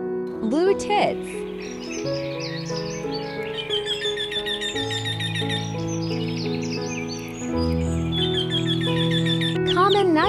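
Blue tits give high, quick chirps and twittering calls in repeated bursts over a steady, sustained tonal backdrop.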